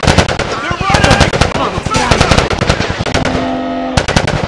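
Gunfire in The Last of Us Part 2: rapid, loud automatic bursts and sharp single shots packed close together, with voices shouting over the din.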